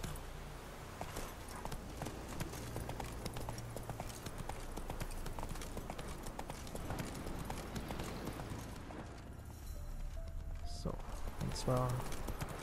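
Rhythmic clip-clop of horse hooves while riding in The Witcher 3 video game, steady and continuous under game ambience, with someone briefly speaking near the end.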